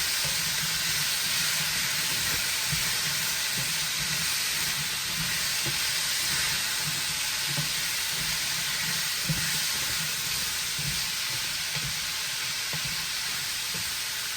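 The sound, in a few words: pork chops sizzling in a pan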